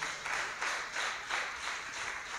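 A church congregation claps in praise, a steady wash of many hands with regular swells, moderately loud, with no talk over it.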